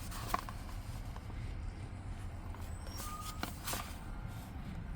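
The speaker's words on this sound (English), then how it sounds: "Beeping you have is buses are returning to the yard." Faint electronic reversing beeps of buses returning to the yard sound at a distance over low vehicle rumble, intermittent rather than loud.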